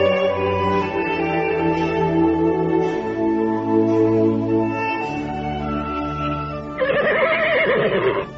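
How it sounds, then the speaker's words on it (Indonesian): A horse whinnies over a steady, layered background with no talk, ending in a bright, louder burst near the close. Galloping hoofbeats are not clearly evident. "Kuda berlari kencang"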